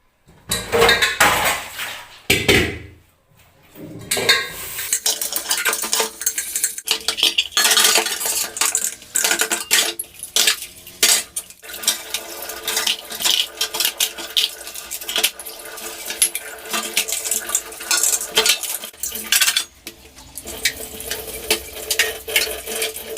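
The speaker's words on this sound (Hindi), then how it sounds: "तो चलिए फटाफट से धो लेती हूँ बर्तन।" Dishes and utensils are washed at a home kitchen sink, with running water, clinking steel pots and clattering cutlery that go on busily and close for over twenty seconds, with no talking.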